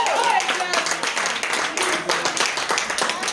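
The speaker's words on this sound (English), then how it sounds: "Can we all give her a round of applause?" Audience clapping at a women's empowerment benefit event, uneven and fairly close, with cheering voices and a voice ringing out over the applause.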